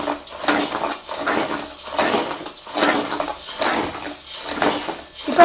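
Chickpeas roasting in a pan, stirred continuously by hand, give a steady rhythmic scraping and rattling that repeats about once a second, moderately loud and close, with no talking.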